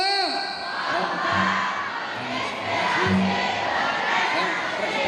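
Crowd of junior high school students shouts a school name in loud unison chants at the opening of a school sports and arts festival, voices swelling in bursts over a continuous cheering roar.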